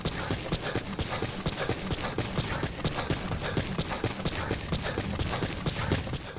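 Galloping horse in Metal Gear Solid 5 video game, loud, close and steady hoofbeats in a fast repeating rhythm throughout.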